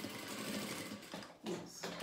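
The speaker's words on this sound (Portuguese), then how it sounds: "Passa a costura reta." A sewing machine runs a straight seam in steady, fast stitching bursts with a short pause in the middle, close and clear.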